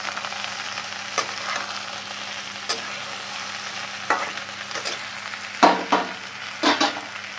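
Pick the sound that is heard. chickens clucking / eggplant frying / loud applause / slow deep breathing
eggplant frying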